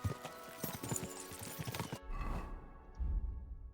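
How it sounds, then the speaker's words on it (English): Horse hooves clip-clop at a gallop in the medieval video game Kingdom Come: Deliverance II, with a brief whinny; steady rapid hoofbeats dominate, then thin out into a softer patter under lower rumbling. "We should spur the horses on."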